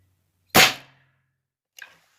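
Airforce Texan SS .308 airgun fired outdoors on a calm day: one sharp, loud crack with a quick decay, then a fainter, brief distant thud about a second later, with silence around it.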